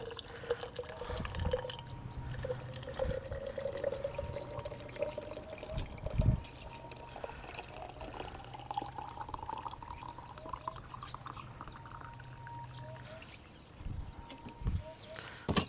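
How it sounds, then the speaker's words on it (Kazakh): Boiling water is poured into a jar holding 50 grams of citric acid to make a rust-removing solution, giving a steady splashing pour with drips over a low background rumble. "Және қайнап тұрған судан құямыз."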